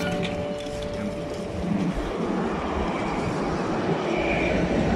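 A tram rolls past near the Western Wall in Jerusalem, a steady, fairly close rumble and hiss of wheels that swells slightly toward the end, with no talk over it.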